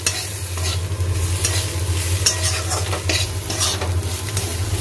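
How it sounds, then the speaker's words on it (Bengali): Spices of turmeric, coriander and cumin are stirred into food frying in a pan, a steady loud sizzle with continuous scraping and stirring strokes throughout, no talking. "এইবারে মশলাটাকেও মিশিয়ে নেব।"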